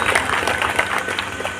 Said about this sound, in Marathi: तुमच्यासाठी एकदा टाळ्या वाजल्या पाहिजे